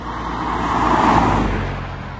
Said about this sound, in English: Traffic can be noisy.